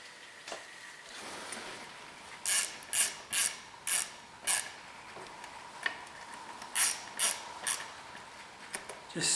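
Lug nuts being run down by hand and snugged onto small-threaded aluminum wheel studs of a 2004 Polaris Ranger 6x6, giving a close series of short ratcheting clicks and metallic rubs in quick bursts with brief pauses between.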